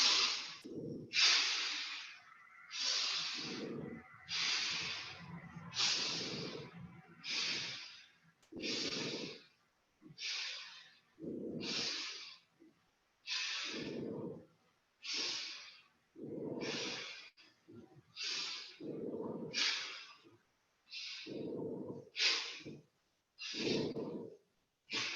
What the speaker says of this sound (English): We're making circles and quite fast breathing.